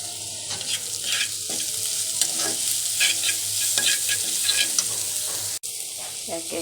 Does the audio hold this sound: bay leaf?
yes